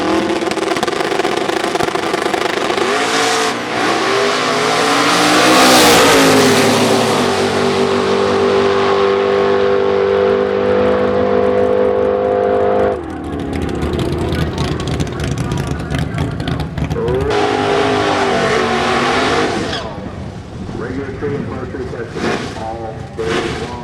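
Ford Mustang nitrous outlaw street car racing down a drag strip, a loud engine roar rising in pitch through the gears and then cutting back, with crowd noise and announcer talk underneath.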